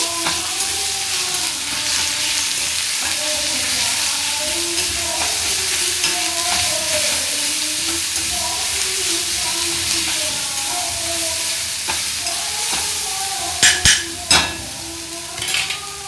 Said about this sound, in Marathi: परतून घ्यायचं आहे